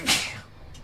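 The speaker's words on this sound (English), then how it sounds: "I had to sneeze." A single sharp sneeze bursts out close by, followed by a brief quiet breath.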